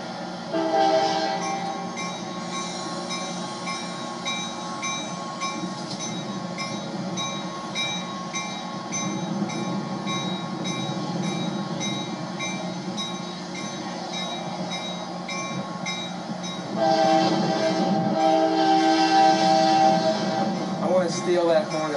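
Amtrak 74 passenger train departing near Salisbury, North Carolina, with a steady rumble of rolling cars and wheels, then a loud, drawn-out multi-tone horn blast near the end, heard fairly close.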